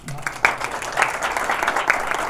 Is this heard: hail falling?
no